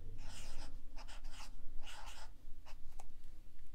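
Hand-written math equation on a board or paper, a series of brisk scratchy strokes in short bursts, close and fairly loud over a low steady hum, no talking.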